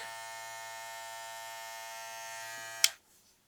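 Suprent Phantom electric hair clippers buzz steadily at close range with a bright, even hum, then click off sharply near the end, leaving silence.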